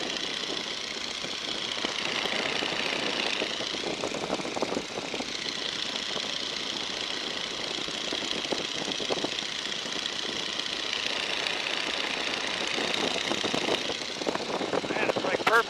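Inside a 1942 Boeing Stearman biplane cruising at 1,750 RPM, the radial engine drones with a rough, knocking pulse under heavy wind rush; voices murmur faintly over the noise.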